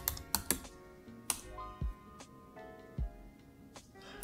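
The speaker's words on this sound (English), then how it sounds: "We'll go ahead and type Y for yes" Typing on a computer keyboard while entering terminal commands, a sparse run of crisp, close key clicks with gaps between the strokes, heard alone.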